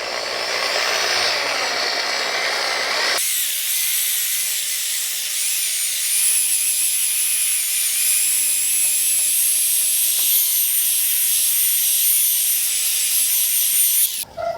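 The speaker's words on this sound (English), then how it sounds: "it kind of just keeps loading the pad as you go and helps you polish. So we'll start off slow and then just pick up the speed" Electric polisher buffing the bed of a 1950 Chevy truck, a steady whirring drone that starts lower and jumps to a higher, louder pitch after a few seconds, holding near and continuous with no talk.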